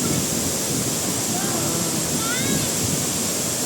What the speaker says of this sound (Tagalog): we are here in Tinoy Falls